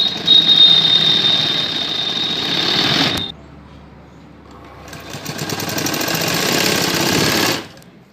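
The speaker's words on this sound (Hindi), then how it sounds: "ये इस तरह से फ्रेंड्स बेल्ट की सिलाई लगा लेनी है" A sewing machine stitches a skirt belt in two loud, close, continuous runs, stopping briefly in the middle before starting again and then halting.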